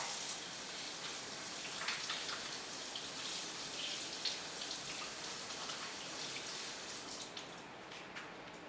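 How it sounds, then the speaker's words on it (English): Steady broadband rush of a tap running warm water into a sink, with faint splashing and small irregular spatters as hands are washed under the stream, continuous throughout. "I'm just going to go to the sink and wash my hands with warm running water"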